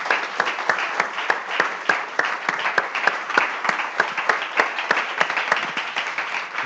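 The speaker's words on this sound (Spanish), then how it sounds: "Démosle un aplauso al Señor," A church congregation claps during a Spanish-language sermon, the applause loud and close with distinct rhythmic hand claps standing out from the steady crowd clapping all the way through.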